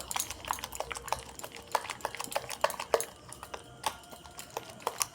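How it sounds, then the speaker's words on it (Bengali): Masoor dal paste mixed with black cumin, salt and chili powder is whisked briskly in a bowl, giving a fast, irregular run of close clicking and tapping strokes throughout. "এবার এর মধ্যে ভালো করে পেস্ট করে নিয়েছি দেব কালো জিরে মতো নুন লঙ্কা গুঁড়ো আমি ফেটিয়ে নেব"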